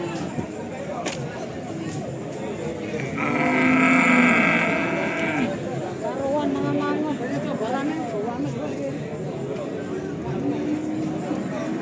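Simmental cattle of Australian stock at a livestock market in Tuban give a drawn-out moo midway and scattered lowing, amid steady market chatter and someone talking nearby.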